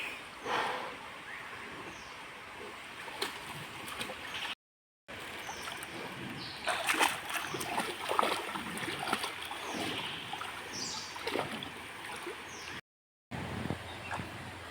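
Running water murmurs and trickles steadily, like a stream flowing nearby, with occasional splashes and faint background noise.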